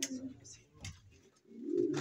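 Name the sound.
pigeons cooing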